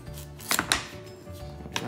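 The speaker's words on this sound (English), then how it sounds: "Now I'm gonna cut the ends off." Sharp knife cutting through the firm ends of a butternut squash, two close crisp chops landing in quick succession, then a faint later tap on the board, with no talking.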